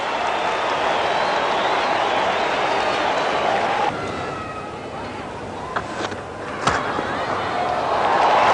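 A 1985 one-day international crowd at an Australian cricket ground roars and applauds after a no ball, a dense, loud, continuous wall of cheering that dips briefly midway and then swells again.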